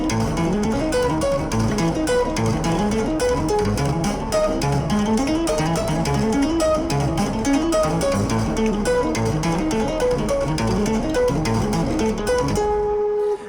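Solo guitar plays a busy, percussive section with a simple melody line woven through it, steady and close throughout, ending on a sustained note, with no voices.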